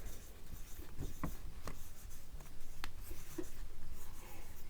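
Chalk or marker scratching out a line on a classroom board during a physics lesson, with a few short distinct strokes and taps at moderate distance and no talk over it.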